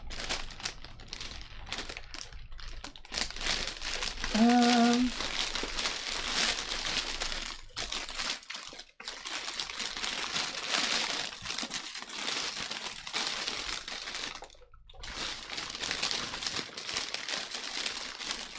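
Cellophane wrapping on a gift basket of goodies crinkles and crackles nonstop up close, with brief pauses and a short tonal beep partway through.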